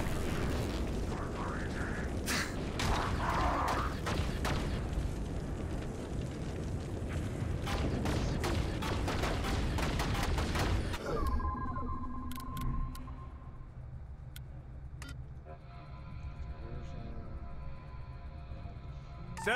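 Bombs detonating in The Bureau: XCOM Declassified, a dense run of sharp blasts and crackling bursts for about ten seconds, then the barrage cuts off, leaving a lower rumble and scattered pops.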